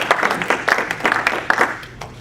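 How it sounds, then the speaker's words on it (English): Rotary Club members applauding two guest presenters at a meeting, a brisk, fairly loud burst of hand claps from a modest crowd, uneven and close, tapering slightly toward the end. "Give them a round of applause."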